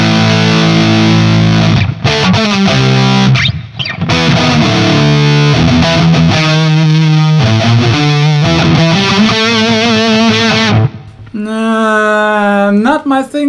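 An electric guitar is played through a NUX Mighty Plug modeller headphone amp with heavy distortion, giving loud, driven riffs and sustained chords with brief pauses and a final bending lead phrase.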